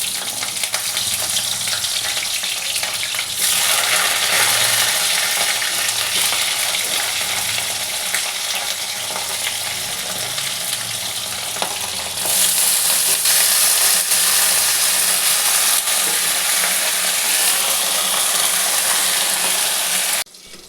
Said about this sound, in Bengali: আলু ফুলকপি দুটোই ভেজে নেবো ভালো করে।